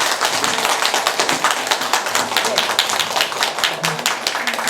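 An audience at a book-writing culture forum claps for the panelists, a dense run of many hands tapping loudly and steadily throughout, with sharp individual claps standing out near the microphone.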